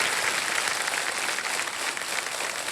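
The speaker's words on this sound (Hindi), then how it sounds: "अब देखिए सब खड़े होकर के ताली बजा रहे हैं आपके लिए।" A studio audience at a quiz show rises to its feet in sustained standing applause, a dense, steady wash of clapping that stays loud and even throughout with no voices over it.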